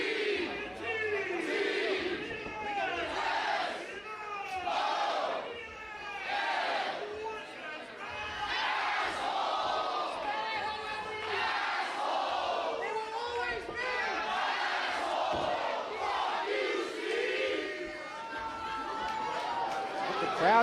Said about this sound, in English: Crowd getting a chant in